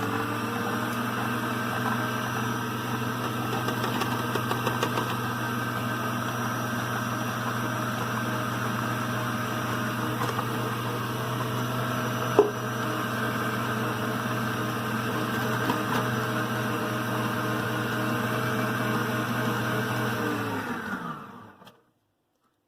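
A stand mixer kneads brioche dough at a raised speed, a loud, steady motor drone with a single brief knock midway, before the machine winds down and falls silent.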